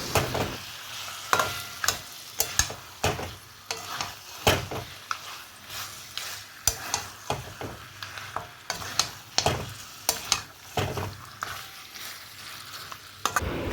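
Marinated mutton is sautéed and stirred in hot oil in a pan, a soft continuous sizzle broken by frequent sharp scraping clacks of the spoon against the pan in an uneven rhythm, close by and with no talking.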